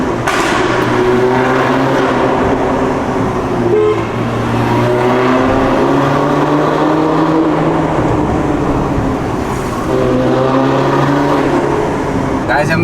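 An Audi TT being driven, its engine revving up and down in repeated pulls, loud and continuous throughout with someone talking over it.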